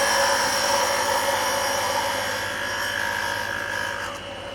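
A wood lathe spins a turned bead and bulb ornament as a parting tool cuts in, giving a close, steady high whine and hum that falls slightly in pitch and fades toward the end, with no talking.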